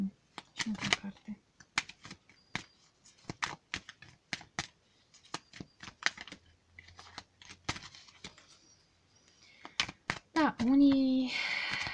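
Sharp tarot card snaps and riffles in quick bursts, close and fairly quiet, with a brief hum of voice near the end.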